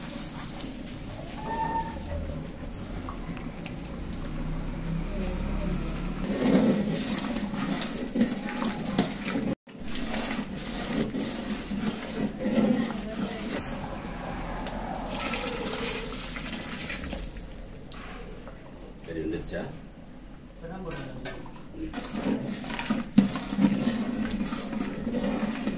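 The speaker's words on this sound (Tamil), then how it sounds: "இது வந்து சுடு தண்ணி ஆட் பண்ணுறோம்." Hot water is poured into a large pot of mutton cooking for a 5 kg batch of biryani, a continuous splashing, gurgling pour that runs steadily for over twenty seconds with brief dips and no talk.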